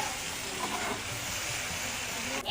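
Water hyacinth frying in a pan, giving a steady, loud, close hiss that runs unbroken throughout with no voices.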